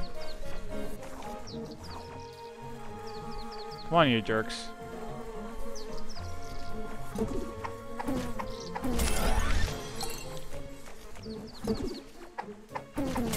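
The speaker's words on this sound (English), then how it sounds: "Let's deal with the bees first" Buzzing bees from the video game Secrets of Grindea hum steadily throughout, mixed with game music and effects, while someone talks over them.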